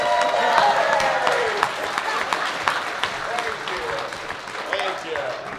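An audience at an event with the Z Nation cast applauds and cheers, the clapping fading from loud to moderate while a person talks over it.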